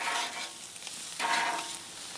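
Onion stirred into fresh corn frying in a pan gives a close sizzle, with two louder bursts of scraping and hissing as the mix is turned.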